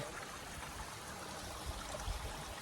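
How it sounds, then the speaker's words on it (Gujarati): Water flows out from between rocks on a hillside at Kevadiya hill, a soft, steady trickling stream that is fairly quiet and continuous. "અહીંયાથી પાણી નીકળીને જાય"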